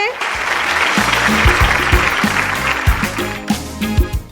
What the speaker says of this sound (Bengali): একটা জোরে হাততালি হয়ে যাবে